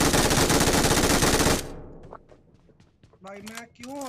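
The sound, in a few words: gunfire in BGMI video game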